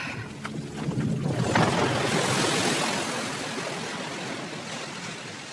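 Rushing water in the Uncharted 4: The Lost Legacy video game, a broad loud wash of flowing surf that swells after the first second, then stays steady and slowly eases, with no voices.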